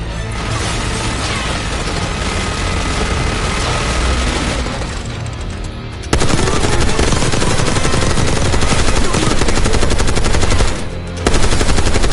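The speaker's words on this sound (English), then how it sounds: "Stay low until that minigun stops spinning." Minigun fire in the Black Ops 6 campaign, a loud continuous roaring burst of rapid gunfire that briefly drops off around six seconds and again near eleven, then resumes at full intensity.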